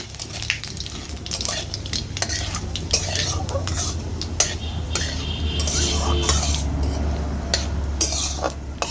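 Bay leaves, dried red chillies and panch phoron are stirred in hot mustard oil in a wok, with a steady sizzle under repeated scraping clicks of a spatula against the metal, close and continuous without talk.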